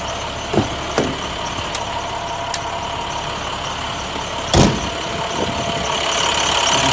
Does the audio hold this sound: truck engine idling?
yes